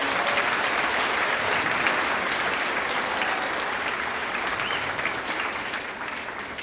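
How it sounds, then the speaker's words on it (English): A crowd at an elementary school fifth-grade celebration gives a big round of applause for scholarship recipients. Steady, full clapping runs unbroken from start to finish at an even loudness. "Another big round of applause for our scholarship recipients."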